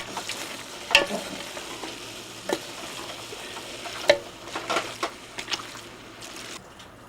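A spoon stirring and breaking up fish soup in a pot, soft scraping and sloshing with a few sharp clinks against the pot, under a steady low sizzle, fairly quiet and close.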